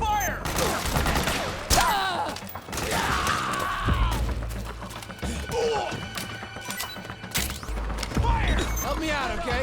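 Gunfire in Metal Gear Solid 4 rattles in dense, repeated bursts with thuds and crashes, loud and continuous, while voices shout over the battle.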